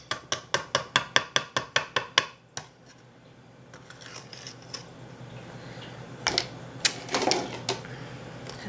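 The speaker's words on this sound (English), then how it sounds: "now I just want to tap off my whisk, which is a little bit loud here." A rapid series of about a dozen sharp metallic taps of a whisk against a mixing bowl, close and loud, then scattered softer clinks and rustling as utensils are handled.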